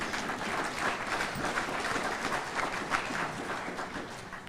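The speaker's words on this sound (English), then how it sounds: "Give him a round of applause, too." Sustained applause from an audience at an evening drug overdose and prevention vigil, steady and dense throughout with no talk over it.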